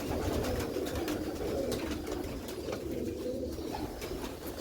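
Pigeons coo softly in a loft, with repeated low, throaty burbling calls over a steady background murmur, close and continuous throughout.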